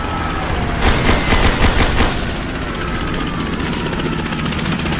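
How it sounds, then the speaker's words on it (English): An enemy helicopter in Ghost Recon 2 approaches with a loud, steady rotor drone, while a burst of rapid gunfire chatters from about the first to the second second over the continuous engine noise. "Enemy helo inbound on your position"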